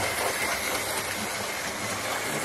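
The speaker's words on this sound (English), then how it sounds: "There's our Mainline Mogul coming around the track now." Mainline Mogul model train running around its track, a steady close rolling rumble with a faint rattle and hiss, holding even and continuous throughout without breaks.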